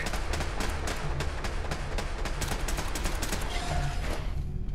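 Automated turrets firing at enemies in Fallout 4 Far Harbor, a loud, rapid string of gunshots in close succession for several seconds, thinning out and fading near the end.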